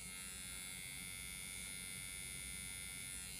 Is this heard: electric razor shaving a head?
yes